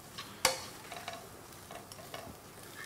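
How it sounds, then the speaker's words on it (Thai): Salted egg yolk and garlic stir-fried over medium heat in a pan: one sharp clack of utensil on metal early on, then faint scattered scraping and light sizzle, quiet and close. "ใส่ตัวไข่แดงเค็มลงไปเลยครับและในขณะเดียวกันนะครับผมใส่กระเทียมไปเลยค่อยๆผัดนะครับ"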